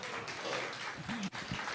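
Thin, sparse applause from a small audience at a Science Café evening talk in downtown Raleigh's Nature Research Center, a quiet spattering of claps that fades briefly near the end, with faint voices mixed in.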